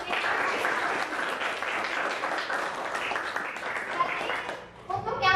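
Classroom of students clapping together for a classmate, a dense steady patter of many hands that holds for about five seconds, then thins and tapers near the end.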